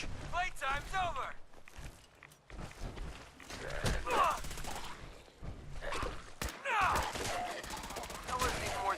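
Gunfire in Fallout 4 during a survival-mode fight, sharp shots and bursts scattered across the scene amid footsteps and movement, with someone talking over parts of it.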